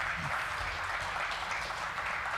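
An audience claps after a spoken word poetry performance, a faint, distant, continuous wash of applause with no clear individual claps.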